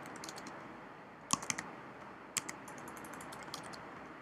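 A command being typed on a computer keyboard while working in a Windows command prompt, with quick close key clicks in short bursts and a few sharper, louder strikes, with no talking.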